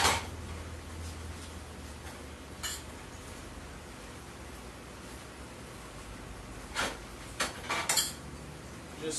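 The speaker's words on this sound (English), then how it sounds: "just kind of gradually start to stir the spinach in" Spinach stirred into a hot pan of sauce for bacon-wrapped pork tenderloin, heard as a few soft, scattered clinks and scrapes of a utensil against the pan over a low steady hiss, with a short cluster of taps near the end.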